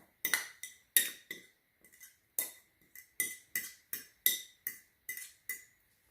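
A utensil stirs a chicken, onion and parsley croquette filling in a bowl, producing a string of sharp clinks and scrapes in an uneven rhythm, close and clear with quiet gaps between strokes.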